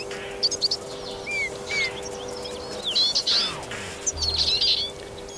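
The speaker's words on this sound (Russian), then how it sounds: "Вот видите, сейчас птица пройдет над оской с той стороны" Songbirds such as goldfinches, greenfinches and siskins chirp and twitter in short bright bursts in a northern wind, with a low steady hum and rushing wind beneath, calls coming in several clusters.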